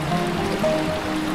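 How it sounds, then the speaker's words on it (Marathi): A small stream flows along a trek to Ganjrai Waterfall in Nashik, Maharashtra, a continuous, even rush and trickle of water heard up close. "आता असा एक छोटासा पाण्याचा ओढा लागलेला आहे"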